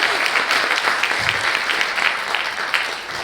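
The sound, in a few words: audience applause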